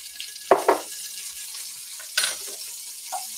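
Minced garlic hitting hot schmaltz in an enameled cast iron pot, two quick sizzling bursts followed by another hiss and stirring, close and fairly loud, with no talking.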